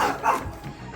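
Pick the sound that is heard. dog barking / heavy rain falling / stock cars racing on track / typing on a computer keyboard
dog barking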